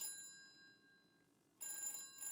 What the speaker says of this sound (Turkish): Telefon çalsın dur.